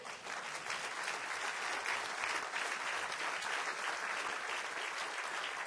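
A church congregation gives a loud, sustained round of applause during a worship service. The clapping is dense and even and holds strong the whole time.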